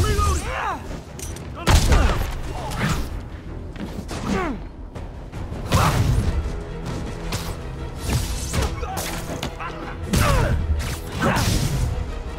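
Rapid gunfire and impact bursts from the PS4 Spider-Man video game crackle loudly and densely throughout, mixed with whooshes and crashes, with voices talking over the action.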